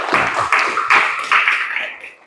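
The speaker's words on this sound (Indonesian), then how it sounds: "Tepuk tangan." A small group of students clapping in a high school Arabic class, several close, loud bursts of claps in quick succession that trail off within about two seconds.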